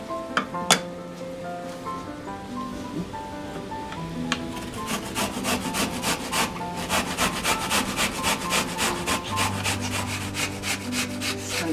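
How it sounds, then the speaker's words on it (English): Apples grated by hand for a vegan Swiss muesli, a steady rhythmic rasping and scraping that builds and continues throughout, close up, with faint tonal kitchen background underneath. "then we just grate the apples"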